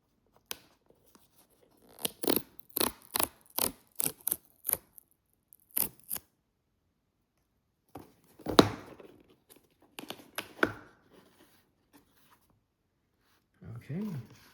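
Seal being peeled off a Ray-Ban Meta Scriber Optics Gen 2 glasses box, heard as a run of sharp close ticks and tearing crackles in rhythmic bursts, then scattered rustles and a brief murmur at the end.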